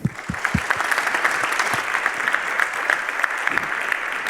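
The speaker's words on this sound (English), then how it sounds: "So you give a round of applause to Shubham" An audience at a security conference talk claps steadily for an incoming speaker, with a few sharp individual claps near the start, then an even, moderately loud patter that keeps going.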